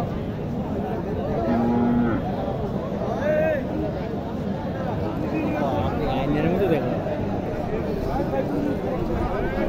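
Cattle moo and low amid a busy outdoor crowd at a livestock market in Naogaon, Bangladesh, with people chattering and talking throughout under the animal calls.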